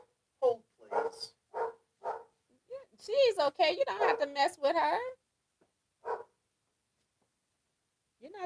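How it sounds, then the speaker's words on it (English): A dog at home barks several short, sharp times in a row, followed by a person speaking nearby and then one more isolated bark. "She's barking big time."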